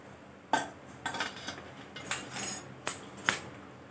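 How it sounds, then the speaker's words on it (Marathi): Dry vermicelli tipped into a pan of hot ghee on a slow flame, heard as a few sharp clattering clinks and light rustling against the metal, close and fairly quiet, with no talking. "तूप तापलेलं आहे, मी शेवाळे टाकून घेते।"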